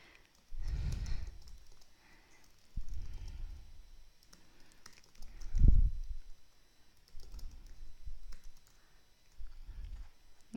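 Soft, irregular taps of a computer keyboard come in short bursts separated by pauses, quiet and close, with a few louder low thumps scattered between them.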